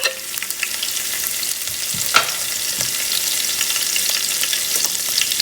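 Mustard seeds and green chilies sizzling in hot oil in a pan, a steady close frying hiss with scattered pops and crackles, one sharper spit near the middle, no voices.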